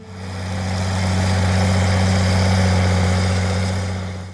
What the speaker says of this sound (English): this tractor carries a powerful Hercules diesel engine, producing around 135 horsepower